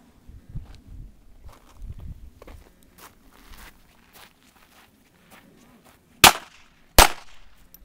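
Two sharp, loud pistol shots ring out on an outdoor shooting range near the end, after quiet rustling and footsteps.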